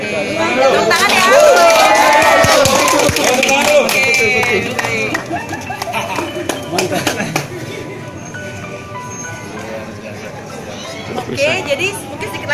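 An audience at a talk event applauds, with a loud burst of clapping mixed with crowd chatter and voices that eases into scattered claps under continuing talk.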